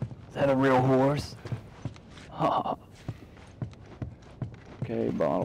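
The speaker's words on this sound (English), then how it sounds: "A real horse." Horse hooves clip-clop at an uneven walking pace in the video game The Last of Us, with a vocal breath or whinny-like sound up front and scattered voices over the steps.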